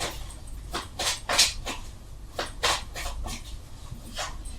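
Tarot cards being shuffled by hand, a series of soft riffling and slapping bursts at uneven intervals, close and fairly quiet.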